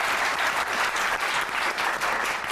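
Loud, dense studio audience applause welcoming a guest onto a television talk show, continuous clapping from many people with no voices over it.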